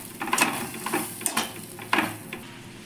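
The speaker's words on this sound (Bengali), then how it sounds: "এবার আমি ভালো করে এটাকে নাড়াচাড়া করে নেব" A spice-seasoned mixture stirred in a pan with a spoon for peas kachori and aloo dum, with soft scraping and several light clinks of utensil against metal at a quiet, close level.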